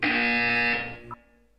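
A loud electronic buzzer from the video game Portal sounds once for just under a second, a harsh steady tone that cuts off sharply.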